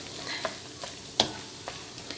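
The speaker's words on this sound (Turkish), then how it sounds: "Evet arkadaşlar etimiz çok güzel kavruldu." Meat frying in a pan for sac kavurma, faint sizzling with a few soft scraping stirs and clicks of a utensil.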